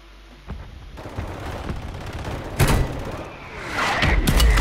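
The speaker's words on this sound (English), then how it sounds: "Oh, that's not our mortar." Mortar explosions in Call of Duty Warzone land in a rapid series of heavy booms and thuds. A loud blast hits mid-clip and more strikes follow near the end, all over a constant game din with no talk.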